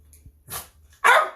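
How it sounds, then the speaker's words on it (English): A dog waiting for food gives two short, loud barks close by, the second sharper and stronger than the first. "Don't bark at me."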